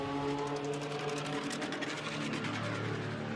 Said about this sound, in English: one car in the background you can hear making a horrible noise